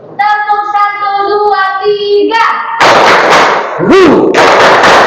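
Students in a classroom clap in loud, sharp unison bursts after a teacher's spoken count, the claps dense and close with a voice calling out between them.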